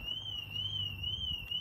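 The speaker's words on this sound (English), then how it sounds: "car's died, alarm's going off, and can't unlock the car" A steady, high-pitched car alarm tone from a 2020 BMW X3 with a dead battery sounds continuously at a distance over faint low background rumble.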